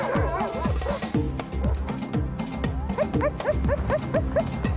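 Sled dogs on an Arctic trail, barking and yipping together in rapid, overlapping bursts, loud and close, with whimpers rising through the pack.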